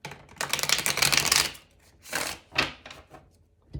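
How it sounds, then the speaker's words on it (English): A tarot card deck is riffled and shuffled up close in a rapid papery flutter, followed by a few shorter snapping bursts as the cards are squared and cut. "we'll do one last shuffle"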